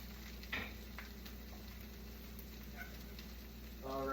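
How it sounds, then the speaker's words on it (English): Spatula scraping and stirring fried rice in a hot pan, a soft steady sizzle with a few faint clinks and scrapes, close but quiet. "I would like to be moving the spatula and the rice around a bit more than I have been doing"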